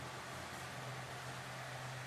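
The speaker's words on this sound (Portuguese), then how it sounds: "Barulhinho de uma pequena turbinazinha" A Mallory electric fan running on speed 3 gives a steady, low whirring hum with a constant low-pitched tone under a faint broadband airy hiss, unchanging throughout and fairly quiet.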